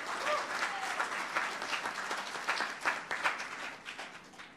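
An audience at an event applauds volunteers with sustained, dense clapping from a large crowd, steady throughout without pause.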